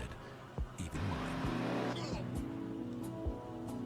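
A car in a racing game revving hard, tires squealing as it crashes and goes flying, with loud engine roar and impacts under excited talk.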